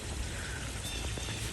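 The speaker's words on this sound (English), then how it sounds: "The waterfall is on" Water from a swimming pool waterfall pours steadily into the pool outdoors in a yard, a continuous close splashing rush with faint trickling detail throughout and no voices.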